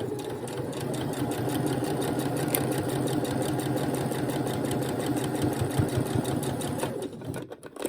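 A sewing machine stitches slowly over a fabric mask, giving a close, steady rapid mechanical whir with rhythmic needle clatter that slows and stops near the end.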